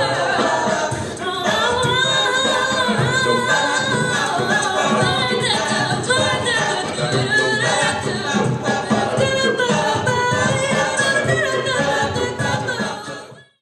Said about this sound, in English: It's a special form of vocal ensemble music that focuses on jazz and pop music